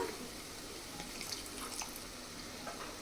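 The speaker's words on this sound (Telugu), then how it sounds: "కొంచెం వాటర్ వేద్దామండి" Water pours in a continuous splashing stream into a pan of tomato curry for a few seconds, close by and fairly quiet.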